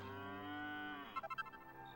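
A cow in the video game Dragon Quest 8 lets out one long, drawn-out moo that bends downward at the end, followed by a short burst of chiming game tones.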